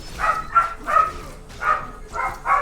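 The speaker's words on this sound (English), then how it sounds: "I know you guys can hear those dogs barking" Several short dog barks in quick succession, fairly close, with brief pauses between them.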